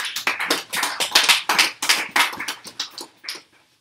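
A church congregation claps together in a quick, rhythmic beat, loud and close, for about three and a half seconds before the clapping stops.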